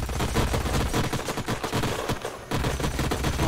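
Gunfire in the video game Age of Wonders: Planetfall, a dense, loud burst of rapid automatic shots with heavy low rumble, briefly dropping out near the middle before firing resumes, with no talking over it.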